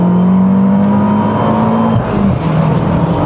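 Abarth with stage 3 tune and automatic gearbox accelerating hard in second gear, a loud close engine note rising in pitch, then a brief dip as it shifts before pulling again.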